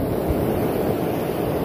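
Ocean waves break on a shore in a cool wind, a continuous loud rushing roar with wind buffeting the microphone and no talking.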